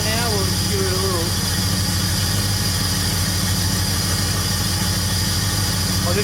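Engine of a 1938 Chevy idling nearby in a steady, loud, rumbling rhythm, with a voice speaking briefly over it.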